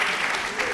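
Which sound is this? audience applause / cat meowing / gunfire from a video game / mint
audience applause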